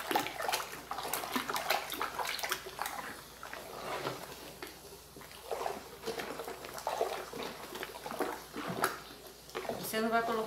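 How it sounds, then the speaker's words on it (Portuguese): Homemade baking soda detergent is stirred in a bucket, with soft sloshing and liquid swirling at low level. A person talks over it the whole time. "E vou continuar mexendo aqui,"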